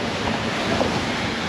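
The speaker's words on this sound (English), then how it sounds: "Whoa, water over the bow." Waves slosh over the bow of a sailboat under way in rough weather, a rushing surge of water mixed with constant wind roar across the microphone, loud and close.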